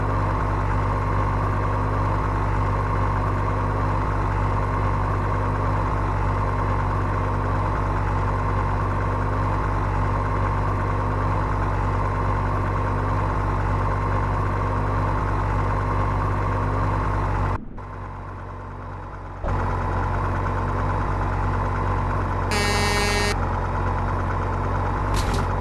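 A vehicle engine drones steadily while driving along a road, a continuous low hum with brief dropouts near the end and no talking.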